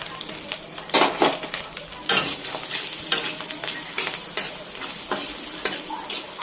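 Onion and green chili tipped into a lightly oiled frying pan for egg pasta, with sharp sizzling bursts and repeated scraping stirs of a utensil against the pan, close and fairly loud, no talking.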